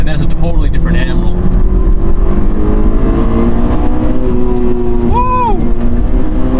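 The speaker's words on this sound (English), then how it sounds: "when that VTEC kicks in, it really just sings" Honda engine revving toward high RPM, from a comparison of a 2023 Civic Type R (FL5) and an S2000; a steady engine drone with rising harmonics builds, with a brief sharp pitch sweep near the end, loud and continuous.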